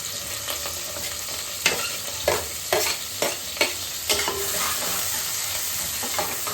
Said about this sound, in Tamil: இப்போ வந்து வெங்காயமும் கருவேப்பிலையும் ஒன்றா சேர்த்து போட்டுக்கலாம்